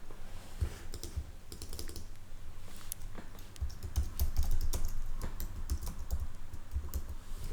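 Steady typing on a computer keyboard during a Figma mobile app design session, a continuous patter of close, crisp key clicks with some heavier strokes, unbroken throughout and without speech.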